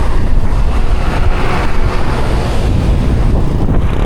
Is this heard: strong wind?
yes